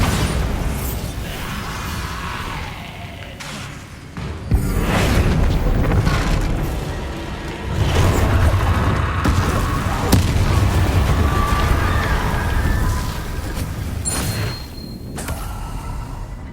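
Bombarda spell blasts in the video game Hogwarts Legacy, a series of heavy booming explosions with rumbling bursts, loud and close, layered over game ambience without talk.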